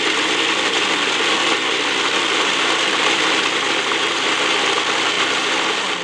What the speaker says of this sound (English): I'm gonna start grinding the onion, some of the tomatillos, and my chiles with the garlic into